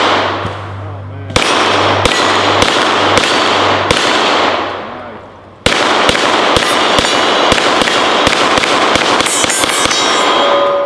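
Rapid, loud gunshots ring out from an STI competition pistol at close range, fired in quick strings with sharp cracks and ringing echoes, with a brief pause between volleys.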